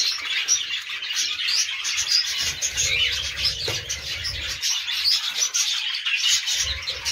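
Pet parrots in a breeding aviary chirp and tweet steadily, a dense layer of high bright calls with soft coos and occasional wing flaps, close and continuous with no talking.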